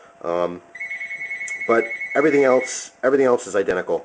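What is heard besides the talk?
phone ringing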